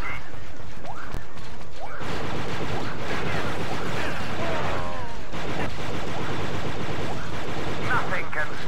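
Sniper rifle shots in Star Wars Battlefront 2 crack within loud, continuous battle effects of blasts and crashes, with a voice talking over the action.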